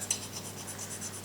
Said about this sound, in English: move the brass over the whole surface of the steel